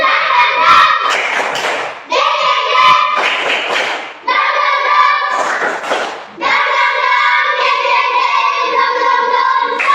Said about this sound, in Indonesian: Kita tepuk semangat sama-sama. Tepuk semangat.